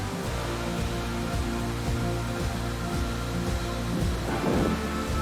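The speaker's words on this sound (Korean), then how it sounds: "100m의 폭에 44m 높이에서 쏟아지는 엄청난 물줄기가 천둥 소리를 내며 보는 이를" Dettifoss, a huge Icelandic waterfall some 100 m wide and 44 m high, roars with a loud, dense, continuous rush of falling water and low thunderous rumble throughout.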